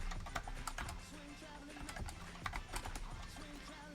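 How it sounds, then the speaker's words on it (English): Steady typing on a computer keyboard during a live Perl programming session, with rapid, uneven key clicks running throughout, close and moderately loud, with no talk over it. "so we can remember how to type on this keyboard"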